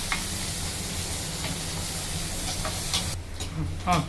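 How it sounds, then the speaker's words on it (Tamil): Green chillies and onions sauté in hot oil for a tempering to pour into a carp fish curry, a dense, even sizzle that fills the clip, then drops away sharply near the end, leaving a few faint clicks. "அப்போ போட்ட பச்சை மிளகா வெங்காயம்லாம் நல்லா வதங்கி வச்சுங்க."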